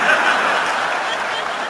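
Dense, steady applause fills a comedy show venue as Ricky Gervais performs, a continuous wash of many hands clapping with a few chuckles mixed in, loud and unbroken with no speech on top.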